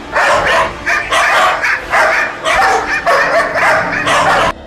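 Several dogs bark loudly and close by in rapid, repeated bursts, with some yips mixed in, over a few seconds.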